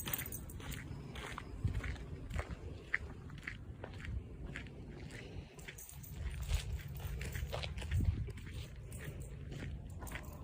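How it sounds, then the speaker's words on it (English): Feet crunch over the ground on a chilly outdoor morning nature walk, a steady stream of close, crackly steps running continuously without talk. "Can you hear our feet crunching on the ground?"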